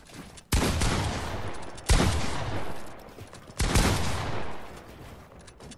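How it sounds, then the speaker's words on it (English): Pump-action shotgun fire in a first-person shooter video game: three loud, sharp blasts spaced about 1.5 seconds apart, each followed by a decaying echo tail, with no talking. "let's just use the shotguns"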